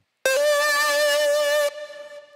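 The Alchemy Sweet Lead synth preset plays one bright, aggressive note with a sharp attack and rich buzzy harmonics, loud and close, held about a second and a half before a quieter echoing tail, with no voices.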